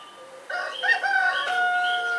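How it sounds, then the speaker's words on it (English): A cockerel crows at the opening of a classic Postman Pat episode, a clear harmonic cock-a-doodle-doo that starts after a half-second lull and carries on steadily to the end, with no talking over it. "all the classic episodes start with a crow chirping. And no, not a crow, a cockerel crowing"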